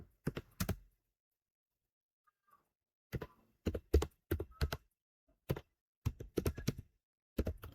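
Commands and a password are typed on a computer keyboard as close, crisp key clicks in short irregular bursts separated by silent pauses.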